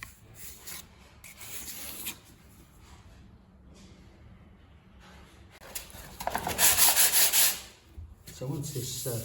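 Sandpaper of 120 grit rubs over dried filler on a plaster windowsill in soft, irregular strokes, growing louder and harsher near the end with quick scratchy passes.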